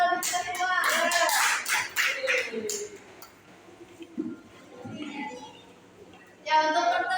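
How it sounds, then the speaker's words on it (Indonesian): A classroom group claps hands together during a microteaching session, a burst of applause at the start and another at the end, with talk and quieter sounds in between. "Kita tepuk tangan untuk kita semua."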